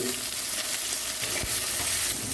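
Chana dal, urad dal and moong dal frying in oil in a pan, a loud, dense, steady sizzle with faint stirring scrapes, no speech.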